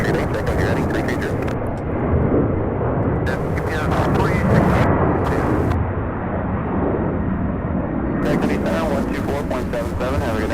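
A heavy UPS freighter jet taking off at Louisville airport, a loud, continuous broadband engine roar that stays strong throughout, with radio chatter and talking heard over it at times.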